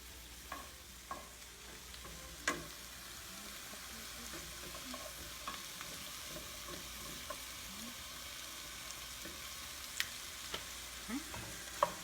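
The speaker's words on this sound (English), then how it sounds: "So, let your onions get going." Onions sautéing in a pan, a soft, steady sizzle with occasional light clicks and stirring taps, quiet and unbroken by talk.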